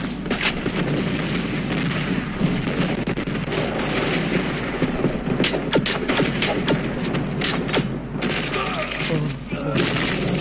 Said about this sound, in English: Hellfire missile on the way.